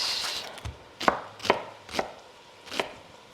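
A kitchen knife chops a large onion on a cutting board, giving five distinct, unevenly spaced thuds against a quiet background.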